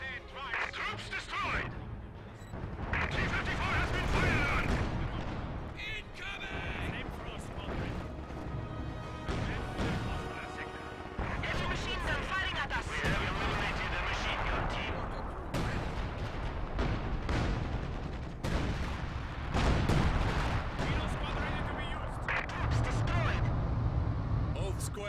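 Tank cannon and artillery fire in the World War II strategy game Company of Heroes 2 crash and boom amid constant battle noise, heavy and dense throughout, with voices speaking over the fighting.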